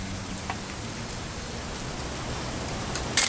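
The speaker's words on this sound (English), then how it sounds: "It's gonna rain the whole weekend," Rain in the video game What Remains of Edith Finch, a steady, even hiss of rainfall over the whole stretch, with a brief louder patter at the very end and no talking.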